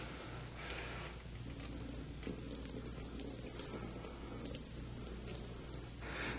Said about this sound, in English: I'm going to put the water on the mat.